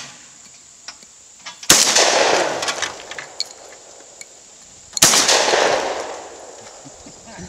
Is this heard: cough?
no